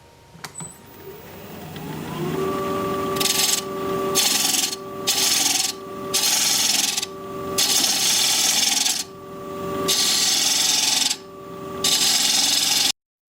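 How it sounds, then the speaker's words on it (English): A wood lathe spins up to about 1300 RPM while a 5/8 inch bowl gouge turns a tri-corner wooden bowl. A steady motor tone runs under repeated loud, rasping cuts in rhythmic bursts, close up, and then the lathe stops abruptly. "we're all set to start turning again. I'm going to switch to my 5/8 inch bowl gouge. And we're going to be turning at 1300 RPM."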